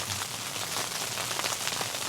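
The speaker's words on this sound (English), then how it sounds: "getting out in that rain just seems like the most miserable thing in the world" Rain drums steadily on a bubble tent during a historic winter storm, a dense, close hiss of countless drops with no let-up.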